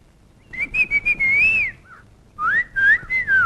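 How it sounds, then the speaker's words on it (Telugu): Loud wolf-whistling in a Telugu film scene, two bursts of rising and falling whistled tones, each with a few short chirps before it, clear and close with no talk. "ఏయ్, మగవాళ్ళ ఈలలేంటి?"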